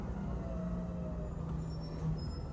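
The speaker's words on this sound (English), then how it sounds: "Oh, yeah, it's the garbage truck." A garbage truck idling outside, heard as a steady low engine rumble with a hiss like an air brake near the end, continuous and fairly loud with no talk.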